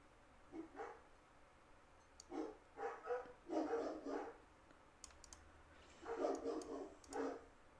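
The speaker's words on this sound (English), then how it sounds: "the dogs are going crazy" Dogs barking in scattered bursts at moderate distance, with quiet keyboard typing and mouse clicks close by in a room.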